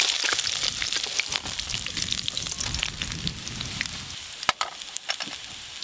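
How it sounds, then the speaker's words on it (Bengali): Fish fry in hot oil in a home kitchen, a continuous close sizzle and crackle with scattered sharp pops, fading somewhat toward the end. "এই মাছগুলো ভাজা হয়ে গেল"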